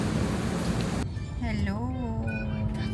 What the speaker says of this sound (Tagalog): Lakas pa rin ang ulan, my goodness